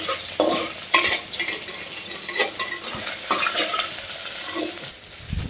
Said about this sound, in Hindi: 1 बड़ा प्याज को मैंने काट के रखा है, तो इसे हम तेल में डाल देंगे।